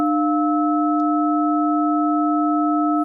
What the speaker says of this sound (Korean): 이제 다시 300Hz 사인파를 재생해 보겠습니다.